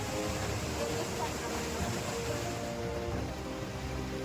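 Fast-rushing water at Koyna Dam roars as a steady, dense wash of noise that stays close and unbroken for the whole stretch.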